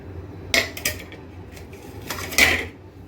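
Grated zucchini is mixed in a bowl, giving a few sharp clinks of a utensil against the bowl, with two louder scraping knocks and soft rustling between them, close and otherwise quiet.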